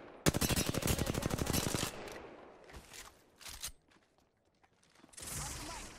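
Rapid automatic gunfire from a Bangalore match in Apex Legends, a loud sustained burst of fast shots, then scattered single shots and short bursts, a pause, and another dense volley rising at the end.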